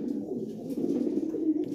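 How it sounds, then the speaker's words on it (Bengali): Lahore pigeons at a pigeon seller's coo steadily and close by, low throaty calls overlapping into a continuous murmur with no voices. "এই যে দেখেন কি কবুতর"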